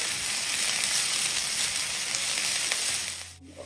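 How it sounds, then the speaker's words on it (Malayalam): Ginger, garlic and green chillies sizzle and fry steadily in a pan, a bright, close hiss running without a break before cutting off near the end. "ഇനി ഇഞ്ചിയുടെയും വെളുത്തുള്ളിയുടെയും ആ ഒരു പച്ചമണം പോകുന്നവരെ ഒന്ന് ഇളക്കി കൊടുക്കുക"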